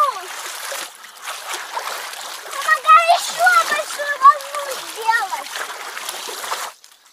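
Water sloshes and splashes in an Intex frame pool as waves are pushed across it, with children's voices talking and calling out over the churning water.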